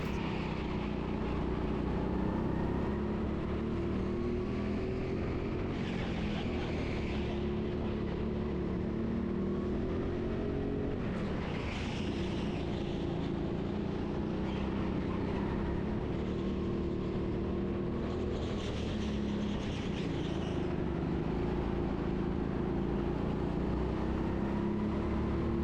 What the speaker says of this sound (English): this kart doesn't seem to have quite as much power as the previous one